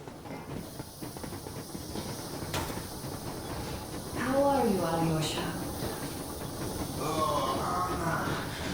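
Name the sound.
steam locomotive hissing and rolling, from video game Metro Exodus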